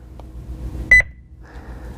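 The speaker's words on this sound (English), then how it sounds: "I'm just getting the one beep" A Honeywell Lynx Touch L5210 alarm panel gives one short, bright electronic beep as a button is pressed, standing out briefly over a quiet room hum.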